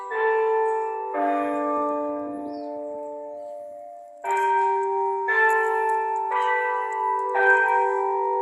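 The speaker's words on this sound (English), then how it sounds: "You can hear the bell ringing." The bell of St. George Parish Church in Barbados rings for 6 o'clock in slow, resonant strokes, each tolling tone lingering and overlapping the next, loud and clear with no voices.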